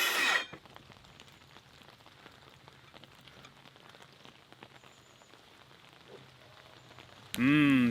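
Rain pattering steadily on a small side deck and stairs build site, a soft continuous hiss of drops with sharp louder bursts at the start and end.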